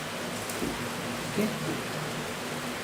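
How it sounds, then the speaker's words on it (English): Heavy rain makes a steady, dense hiss that fills the background throughout. A voice speaks briefly over the downpour. "Apologies for the rain."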